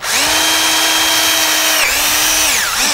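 Power drill driving screws into PVC dust extractor pipe, a loud steady whine of the motor that runs for nearly two seconds, dips, then spins up again in a shorter second burst.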